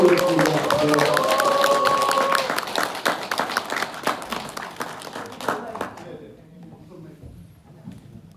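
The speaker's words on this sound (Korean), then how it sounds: "여러분 큰 박수 부탁드리겠습니다" An audience at a political party lecture event in Jeju claps for a lawmaker walking onto the stage. The applause is loud and busy at first with a few voices mixed in, then thins to scattered claps and fades out.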